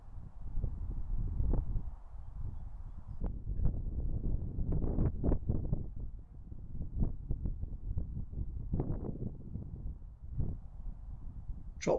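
Steady wind rushing across a microphone at an outdoor fishing lake on a cold spring match day, a continuous low buffeting roar with gusty swells and brief rustles throughout.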